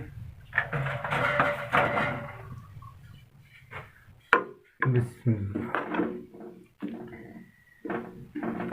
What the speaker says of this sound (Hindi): इसको हम अच्छे से मिक्स करेंगे।